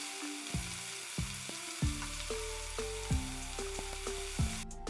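One big chopped onion sizzles in hot oil in a pan, a steady frying hiss with soft crackles and occasional stirring knocks, close and moderately quiet.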